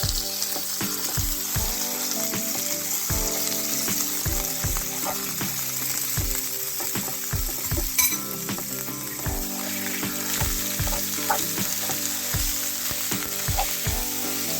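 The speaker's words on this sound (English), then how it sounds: "In the same pan I will add some oil and then I will add the pork mince and break it up with the spoon." Pork mince frying in oil in a pan, broken up with a spoon, gives a steady close sizzle with repeated spoon knocks and scrapes against the pan throughout.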